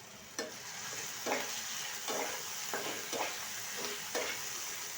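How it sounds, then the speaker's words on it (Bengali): Potatoes frying in a pan with turmeric and salt, a steady sizzle broken by about six rhythmic stirring scrapes and clinks, close up, no talk. "পাশে আলু ফ্রাই করে নেব"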